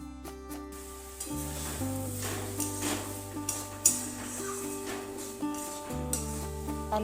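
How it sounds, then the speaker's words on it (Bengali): Potatoes sautéed in a pan with a little water for a home-style egg curry: steady sizzle with stirring and scraping throughout, under prominent background music and with no talk. "এরপর অল্প জল দিয়ে কিছুক্ষণ আলুটাকে কষিয়ে নেব।"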